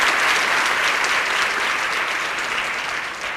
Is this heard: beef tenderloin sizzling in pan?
no